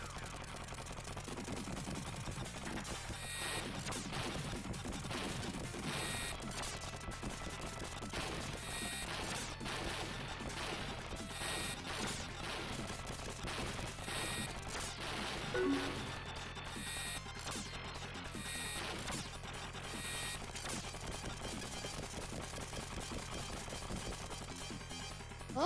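Bombs and gunfire blast continuously in the shoot-'em-up game Hexi's Flying Circus, forming a dense, loud wash of crashes and rapid shots with a sharper burst near the middle and no pause.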